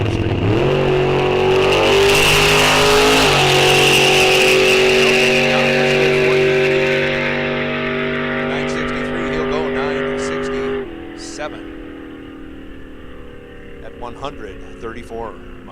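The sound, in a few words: 48 Pontiac Silver Streak drag racing at full pull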